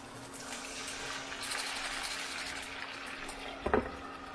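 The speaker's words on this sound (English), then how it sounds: "We do definitely need to put in a little bit of water." A small splash of water is poured into a frying pan where food is already frying, giving a steady hissing pour with a short clatter near the end.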